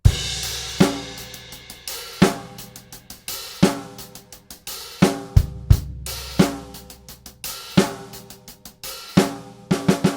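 Four bars of a song played on an acoustic drum kit in a lesson setting, with loud, close kick and snare hits, steady hi-hat eighths and crash accents in a driving disco groove, without any voice.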